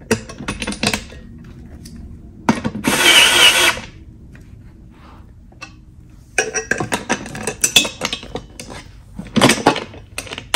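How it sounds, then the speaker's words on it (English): Short bursts of a screw being driven into a rolling laptop stand table, with gaps between them and clattering handling noises, fairly close and loud. "I'm just screwing it partially in right now, just to get me to a point where I feel like it's stable."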